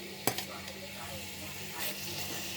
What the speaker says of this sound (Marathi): फक्त दोन मिनिट आपण याला असं हाय फ्लेमवर परतवून घेऊया